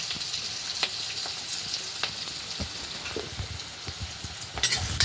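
Meat frying in a pan with spices, outdoors: steady crackling sizzle with occasional sharp pops and stirring scrapes, continuous and fairly close, with no talking.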